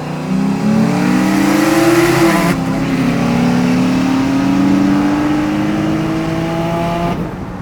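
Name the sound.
Turbo V6 Honda Accord racing a cammed G8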